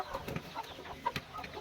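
Desi chickens cluck faintly and intermittently on a small farm, soft short calls over a steady background hiss.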